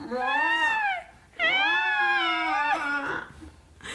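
A voice imitates a cat's retching yowl in two long, warbling, drawn-out cries, loud and close, with a brief pause between them.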